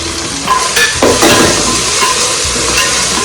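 Masala for chicken biryani is stirred and fried in a pan, with loud, close sizzling and spoon scrapes against the metal in an uneven rhythm.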